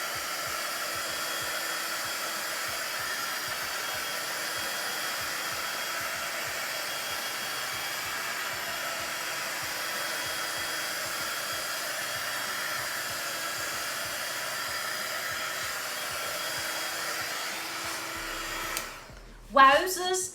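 Heat gun blowing hot air onto a craft piece, a steady, close whooshing drone with a faint rhythmic motor ticking, ending with a few louder knocks and handling sounds as it shuts off.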